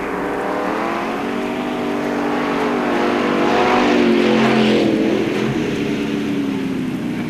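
Race cars at Knox County Raceway roar around the track in a dense, steady engine drone on the final lap, swelling slightly as the pack passes mid-way and continuing loud throughout.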